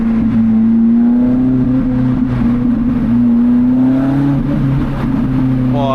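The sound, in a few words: car exhaust while accelerating on a road to Italy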